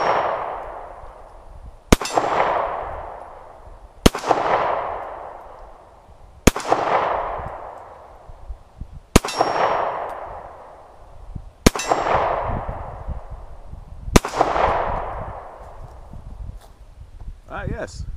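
Seven sharp shots from a Taurus Slim pistol, each followed by a bright ringing clang of a struck steel target, fired at a steady pace of about two seconds apart, loud and near, with faint talk in the background.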